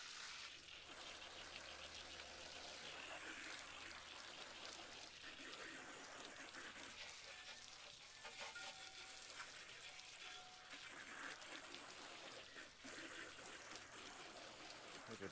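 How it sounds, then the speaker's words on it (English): Steady hiss and patter of water from a hose spraying onto a 2021 Road King motorcycle, continuous and fairly close, with no talking. "just gonna hose it down before anything"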